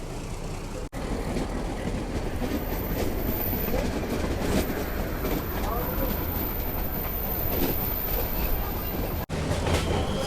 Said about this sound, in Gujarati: ચાલો ગાર્ડ સાહેબે લીલી ઝંડી દેખાડી દીધી છે અને આપણે સત્તાધારના રેલવે સ્ટેશનથી નીકળવા